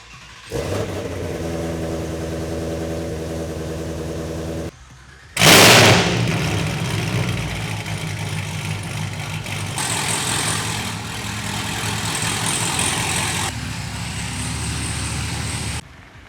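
A cold-started car engine, the ZLE or the 350, catches with a loud burst after a steady idling drone, then settles into a rough, rumbling idle that continues near and loud with no talking.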